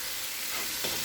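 Tomatoes with coriander powder, chilli powder and salt being stirred in a cooking pan, a steady close sizzle with a brief scraping stir near the end.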